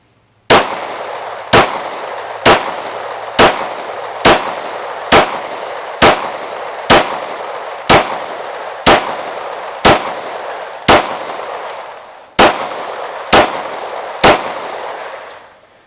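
A Glock 19 with its regular barrel and slide fires 15 rounds of 9mm in a steady string, about one sharp, loud crack per second, each shot ringing briefly before the next.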